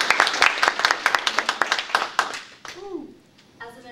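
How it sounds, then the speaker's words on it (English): A classroom audience claps for a student speaker, a burst of quick, uneven hand claps up close that fades out after a few seconds, followed by brief voices. "let's clap for Lindsay, everyone"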